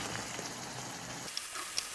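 Cubed potatoes tipped into spice paste frying in a pan for a kachki fish curry give a steady close sizzle and crackle, with a couple of brief sharper pops near the end.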